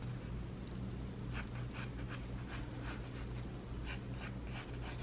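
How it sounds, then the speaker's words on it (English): Pencil sketching on paper, with short scratchy strokes repeating at an uneven rhythm over a low steady room hum, quiet and close. "Maybe I try to sketch out the final."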